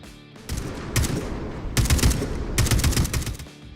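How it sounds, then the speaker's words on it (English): Kalash machine gun in the first-person shooter Atomic Heart, loud sustained bursts of automatic fire broken by short pauses, close and punchy. "Every first-person shooter has to have a satisfying machine gun, and oh boy is the Kalash satisfying to use."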